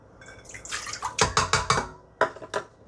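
Water splashes and trickles into a mixing bowl in a few short, close bursts, with bright sloshing dribbles between them, half a cup of water for bread rolls.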